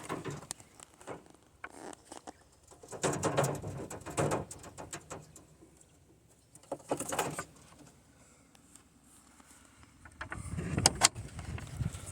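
Pet pigeons or doves in a backyard coo and shuffle in a few soft bursts, with faint patter and gaps of near quiet between them.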